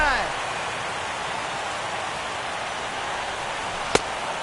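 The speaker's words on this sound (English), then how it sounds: "The rain is intensifying right now." Rain falls steadily during a televised World Series baseball game, a dense, even hiss that fills the whole clip. A single sharp click or crack cuts through it near the end.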